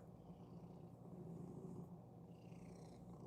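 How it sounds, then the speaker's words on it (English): A house cat purrs softly and close by, a continuous low rumbling that pulses with its breathing, against a quiet indoor background with a furnace nearby. "You can hear the kitty purring?"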